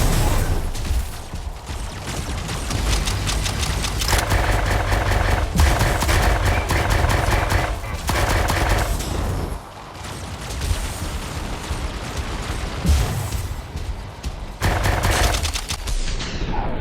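Sustained rapid gunfire and heavy weapon bursts as AI-controlled mechs shoot at each other in the video game Lancer, loud and dense, with brief lulls between volleys.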